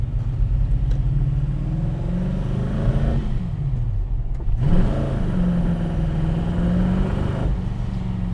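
CAV GT40 with an Audi six-speed transaxle on a test drive, its engine rumbling loudly from inside the car as revs climb, drop off through a gear change, then rise and settle again.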